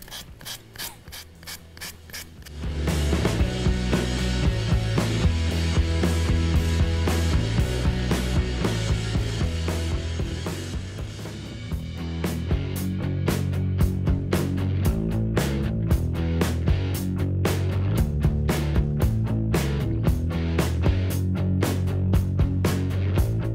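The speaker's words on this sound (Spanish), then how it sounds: "Hay que lijar pues suavemente porque puede uno rasgar la servilleta." A paper napkin edge on an MDF craft box is sanded by hand, giving a steady run of close rasping, rubbing strokes over about twenty seconds, briefly easing midway before continuing.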